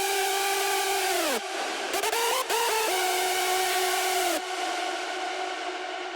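A layered synth melody from an electronic music production track, its four stacked layers routed to one bus, playing sustained bright buzzy tones with gliding pitch changes and a few short stuttered notes, loud and alone.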